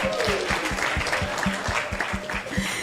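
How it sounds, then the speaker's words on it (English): Audience at a national conference of women's rights organizations claps in a steady, somewhat rhythmic patter, with a low thumping beat running beneath the applause. "Let's clap for her."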